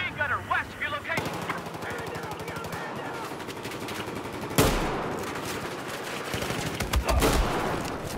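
Battlefield 4 Operation Locker gameplay in Conquest mode, with sustained rapid machine gun fire rattling in long bursts, a heavy blast partway through and more gunfire after it.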